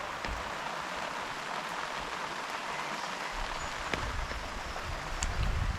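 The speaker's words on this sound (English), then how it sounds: "Started to rain, so time for a brew" Steady rain patters down outdoors in a British summer, a dense even hiss with a few sharper drops landing close by, and a heavier burst toward the end.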